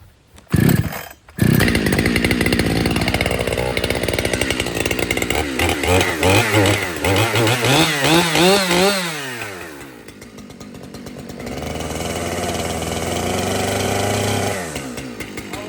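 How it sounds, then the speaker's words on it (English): A large chainsaw starts with a sputter, then roars and revs up and down as it bites into a log, before dropping to a steady idle. "I'm using my big chainsaw because the other one's out of gas"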